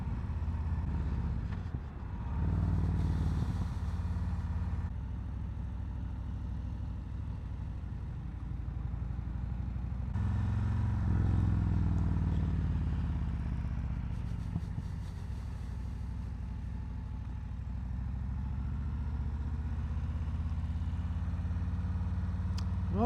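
Engine of a 2021 Harley-Davidson Road Glide Special motorcycle rumbling steadily on the road, a low continuous drone with slight rises in pitch and some wind noise.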